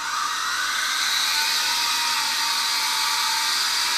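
A Sky Rover Exploiter S toy drone hovers indoors in a kitchen, its small propellers producing a continuous high, buzzing whine that stays steady and close throughout.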